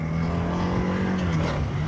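A TVS Apache RTX motorcycle engine pulls hard under sudden throttle, its loud, steady, close-up drone holding through the whole stretch with a slight rise and dip in pitch and no talk over it.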